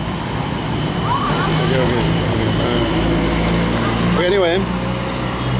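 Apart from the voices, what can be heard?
street traffic noise at a city street corner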